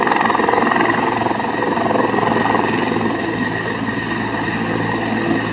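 A helicopter's rotors thump rapidly and steadily beneath a loud whining engine drone, close by and sustained throughout.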